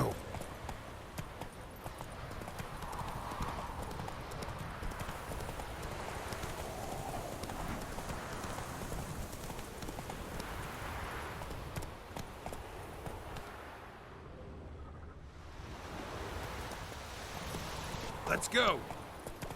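Horse hooves clop steadily in The Witcher 3 while riding on horseback, with a continuous rhythmic gallop under game ambience; someone speaks briefly.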